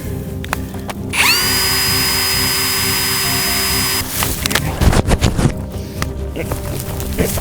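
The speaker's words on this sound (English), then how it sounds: "I'm going to do a little drilling to insert the tracker." A power drill whirs loudly and steadily for about three seconds in a comedic scene, then stops, followed by clattering handling noises and rustle.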